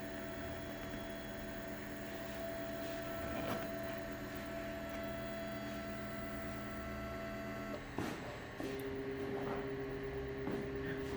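A 3D printer runs its calibration before printing, a faint steady hum of motors with sustained tones that shift pitch partway through, plus occasional soft clicks.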